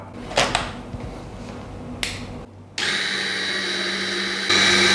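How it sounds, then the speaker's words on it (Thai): A small Blendplus Mini slow juicer pressing pomegranates for juice: a few clicks and handling knocks, then the motor starting into a steady whirring hum that rises in intensity near the end. "นี่เดี๋ยวเรามาเริ่มคั้นน้ำตับทิมกันได้แล้วนะครับ"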